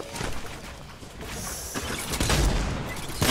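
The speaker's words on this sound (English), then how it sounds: "Yo, stop shooting," Video game gunfire in a battle-royale match, a dense burst of sharp, noisy shots and mechanical clatter that builds toward the end, fairly close and loud.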